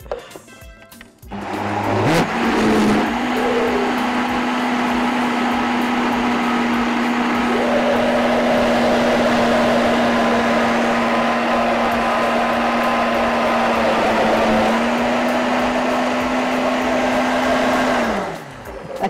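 A food processor mincing beetroot and potatoes runs loud and steady for about sixteen seconds, a continuous motor whine with a short pitch shift partway through, starting abruptly and winding down at the end.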